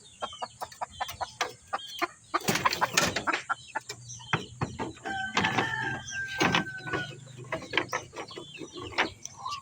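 Gamecock chickens and pure jungle-fowl birds kept as fighting stock cluck repeatedly in short, close bursts, with a couple of louder crowing calls partway through, over a steady low background hum.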